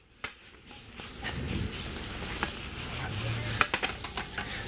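Steady sizzling and scraping of chopped quail stir-frying in a hot pan, with clicks and taps of a utensil stirring and chopping through the meat, no voices.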